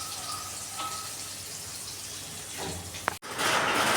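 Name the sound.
heavy rain outside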